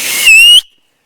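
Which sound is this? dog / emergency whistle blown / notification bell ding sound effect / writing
emergency whistle blown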